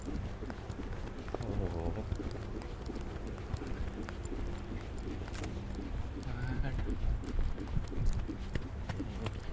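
A horse warms up in an arena, its hooves giving a soft, rhythmic thud under a brief spoken exclamation, with birds cooing and chirping faintly in the background.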